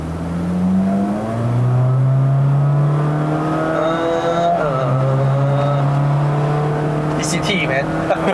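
A remapped 2021 Honda City RS e:HEV hybrid accelerates on a mountain road with a loud, close engine drone whose pitch climbs and then holds steady, while people talk inside the car.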